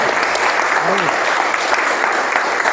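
An audience at a public event in Junín, Buenos Aires province, applauds in a steady, dense wash of clapping at fairly loud level, with a brief faint voice sound partway through.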